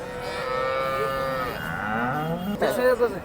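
Cows at the Sangola cattle market low with long, drawn-out moos, one after another, close by over a steady crowd murmur, with brief voices near the end.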